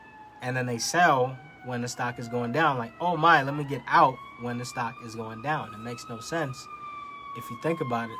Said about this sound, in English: Sorry for the background noise with the siren.